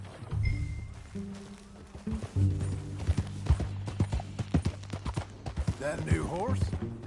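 Horse hooves clip-clopping in a PS4 video game, a rhythmic run of distinct hoof strikes at a walking pace, alongside background music and a brief whinny, with characters talking over part of it.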